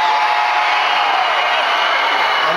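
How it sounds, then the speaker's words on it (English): Male fans in a concert audience in Fresno scream together in a loud, dense, unbroken roar filling the arena. "Let's try one more time. Guys scream."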